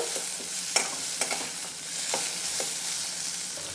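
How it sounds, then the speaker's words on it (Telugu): Mint leaves frying in a pan for uggani, a steady soft sizzle under intermittent scraping stir strokes, close and moderately loud, with no voices. "పుదీనా వేసి వేసి కొంచెం ఇట్లా వేపుకుందాము"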